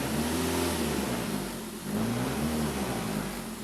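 A Ford Focus engine with worn engine mounts idles roughly with a steady low rumble and vibration, the drone rising and dipping slightly throughout, close and continuous.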